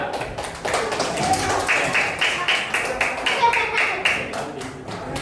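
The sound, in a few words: class of children clapping hands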